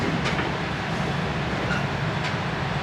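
An Amtrak passenger train rolls into a station with a low, steady rumble and a few faint metallic clicks, continuous and fairly close, with no one talking.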